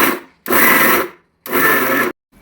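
Garlic, ginger and salt being pounded into a coarse masala for stuffed brinjal, heard as two long, loud, close grinding-rubbing strokes separated by short pauses.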